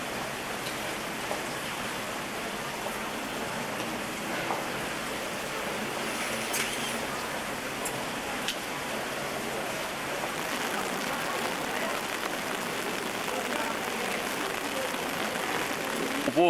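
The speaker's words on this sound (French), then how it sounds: "Il pleut dehors" Steady rain falling outdoors on a winter's night in East Berlin, a continuous broadband hiss with faint scattered patter, holding even and constant throughout.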